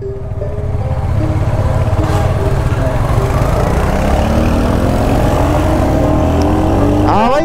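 A Royal Enfield Hunter 350 motorcycle rides along a road, its engine running at a steady, loud, continuous drone close to the rider, with wind noise throughout.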